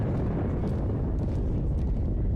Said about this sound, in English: That bomb sound